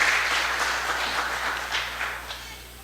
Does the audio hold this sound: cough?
no